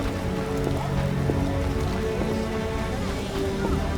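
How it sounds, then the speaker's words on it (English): Heavy downpour in The Witcher video game, a dense, steady hiss of rain pattering on surfaces that fills the whole scene, with faint voices underneath. "What a downpour!"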